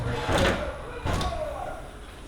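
A sticking, poorly made cabinet door is forced open, giving two dull knocking thumps about a second apart with scraping in between, over faint room noise.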